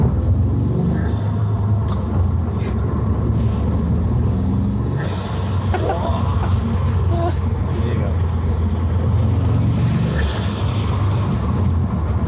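A Toyota GR Yaris fitted with an Eventuri intake drives at low revs while its turbo builds boost, a steady droning rumble with loud road and cabin noise beneath, as people talk over it.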